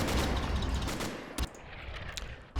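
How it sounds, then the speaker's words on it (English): Rapid enemy gunfire rattles in Men of War: Assault Squad 2, a dense, loud burst of overlapping shots with a few sharper cracks standing out near the end. "the enemy is going to continuously fire on our position here"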